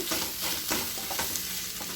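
Tamarind frying in oil in a pan for a Telugu chutney, a dense, close, continuous sizzle with soft stirring scrapes mixed in, and no speech.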